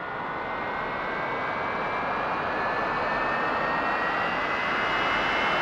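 A steady, loud jet engine roar from a simulated vehicle in a homebrew rocket-building game, with a broad rushing whine and faint rising tones that continue unchanged without talk.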